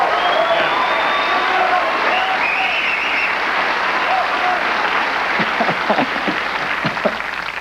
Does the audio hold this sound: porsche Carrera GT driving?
no